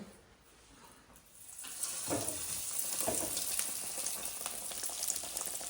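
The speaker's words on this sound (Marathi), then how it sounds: "बघा असं मस्त तळायला घ्यायचं स्लो गॅस राहून द्यायचा" A homemade burger frying in a pan over a low gas flame, a steady hissing sizzle that starts quietly and swells after a couple of seconds, then holds close and even to the end.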